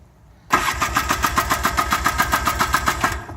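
A 1987 Polaris Trail Boss 4x4 ATV engine on full choke cranks and catches abruptly, then settles into a loud, close, steady chugging idle with a regular pulsing beat.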